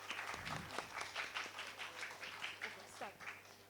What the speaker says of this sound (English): A big round of applause for Mohammed Ahmed.